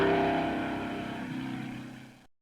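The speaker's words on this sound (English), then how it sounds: "You actually hear the cars approaching you from behind, and the sound gets louder as they get closer." Racing cars in a driving video game, engines droning with a whining pitch that slowly fades, then cut off abruptly after about two seconds, heard alone without talk.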